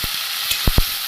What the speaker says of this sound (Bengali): জল আমি দিয়ে দেবো।